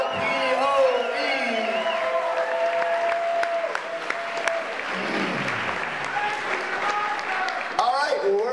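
An audience applauds a poetry slam team at a competition final, dense clapping running steadily throughout with scattered cheers and whoops, and a voice talking over the crowd.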